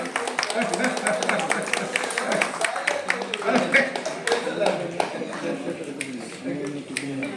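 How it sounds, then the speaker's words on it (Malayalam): Audience clapping at an award ceremony in a hall, steady rapid hand claps from many people throughout, with voices talking over and among the applause. "ഒന്ന് കയ്യടി കൊടുത്തതാണ്"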